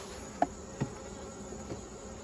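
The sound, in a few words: honey bees buzzing around hives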